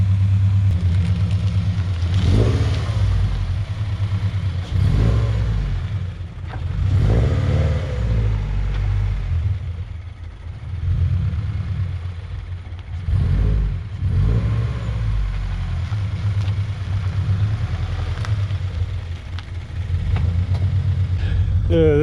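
A drift car's engine idles roughly on a cold start and revs in repeated surges, loud and close, rising and falling several times.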